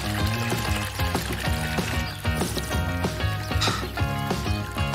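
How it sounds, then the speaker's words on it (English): Water pours from a punctured bag of water hanging from a tree branch outdoors, a steady stream running under loud, continuous music. "I'll just hang this bag of water on the tree branch, give it a little poke"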